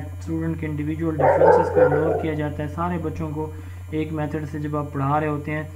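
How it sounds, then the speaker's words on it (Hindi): A dog barks in the background of a student's home during an online lecture. The barks sit under steady talk, over a constant mains hum. "ये किसके घर कुत्ता भौंक रहा है"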